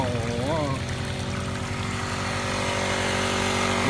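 A small Honda GX50 engine, lawn-mower type, drones steadily and loudly while running a water pump, with a low, buzzing hum.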